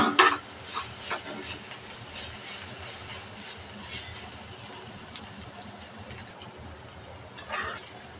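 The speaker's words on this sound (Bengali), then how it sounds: "ভাজিটা আবার একটু নাড়াচাড়া করে নেব।" Bitter gourd bhaji is stirred in a pan as it fries until slightly charred on the bottom, with a couple of scraping strokes near the start over a soft, steady sizzle.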